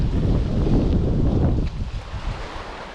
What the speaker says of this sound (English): gonna get out of the wind.